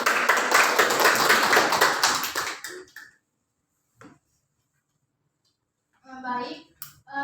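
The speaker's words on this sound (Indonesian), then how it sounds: "Berikan tepuk tangan." Students in a classroom clap briskly together for about three seconds, a dense, close patter that then stops abruptly. After a quiet pause, a voice speaks briefly.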